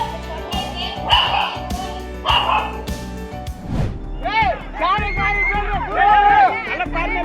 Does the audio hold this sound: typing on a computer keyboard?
no